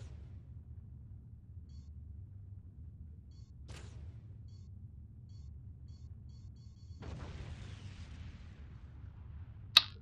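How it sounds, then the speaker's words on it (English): Torpedo strike on a ship in the space game Discovery Freelancer: a faint low hum, a brief crack, then a sudden broad burst of explosive noise that fades out, ending with a sharp loud snap. "Incoming torpedo."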